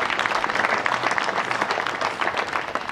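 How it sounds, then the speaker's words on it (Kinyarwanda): At a bank's 25th anniversary ceremony in Rwanda, an audience gives sustained applause. The dense, even clapping fills the whole stretch without a pause. "Nagira no muha amashyi"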